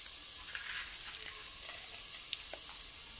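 Cashews hit hot fat in a pan and sizzle with a soft, steady hiss and a few small crackles, faint and close with no voices.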